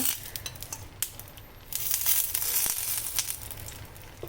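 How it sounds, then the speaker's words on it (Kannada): Stuffed green chillies crackle and sizzle in hot oil, a steady hiss punctuated by sharp pops that grows louder and denser midway, close and alone. "ಫಸ್ಟಿಗೆ ಫ್ರೈ ಮಾಡ್ತಾ ಸ್ವಲ್ಪ ಚಟ ಚಟ ಅನ್ನತ್ತೆ"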